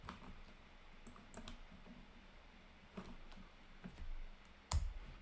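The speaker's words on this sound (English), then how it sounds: "type, while in the main directory, npm install" Faint, scattered keystrokes on a computer keyboard, a few light clicks spread out with one sharper tap near the end, in a quiet room.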